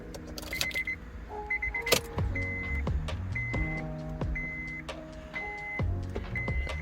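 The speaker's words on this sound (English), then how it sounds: "we're gonna turn the car on and see if everything comes on" A 2006 Honda Accord powers on with a series of short electronic chimes and beeps repeating at irregular intervals, along with faint clicks and mechanical thumps nearby.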